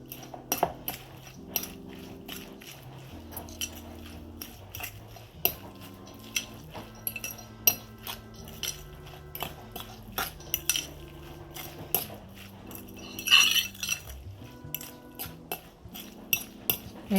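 Canned salmon, egg and seasonings are stirred in a bowl, a utensil clinking and scraping against the sides in irregular, close taps over quiet background music.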